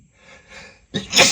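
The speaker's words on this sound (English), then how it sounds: "You know how bad my sneezes are." A single sharp sneeze, preceded by a brief sharp inhale, close and loud at the end.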